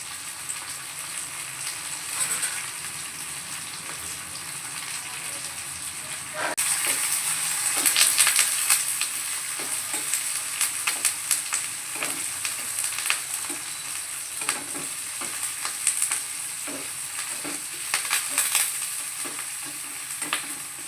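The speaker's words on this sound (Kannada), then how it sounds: "ಈ ಥರ ಉಳ್ಳಾಗಡ್ಡಿ ಕೆಂಪಾಗೋವರೆಗೂ ಫ್ರೈ ಮಾಡಿಕೊಂಡು" Onions frying with curry leaves and dried red chillies in a pan for a greens stir-fry, a steady close sizzle broken by frequent scraping and clinking stirs, growing louder partway through, with no talk.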